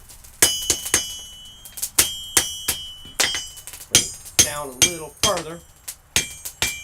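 Steady, ringing hammer blows on a knife blade over the horn of an anvil, struck in a regular rhythm close by, with someone speaking briefly between strikes.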